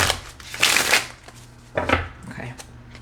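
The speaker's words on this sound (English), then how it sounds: "I'm gonna shuffle one more time." A deck of cards is shuffled by hand, two bursts of riffling and flicking close up, the first longer and the second shorter, with faint talk under the sound.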